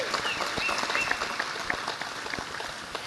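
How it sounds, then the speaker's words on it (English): Scattered hand clapping from an audience at an astronaut reunion gathering, a thin patter of claps continuing steadily at moderate distance without speech. "Another hand clap."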